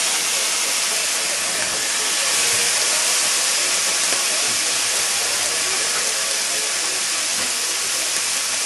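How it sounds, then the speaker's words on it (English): Bacon fries in a skillet with a steady, loud broadband sizzle and hiss that holds evenly the whole time, with no talking. "you fry up some of this bacon, because this stuff loves grease"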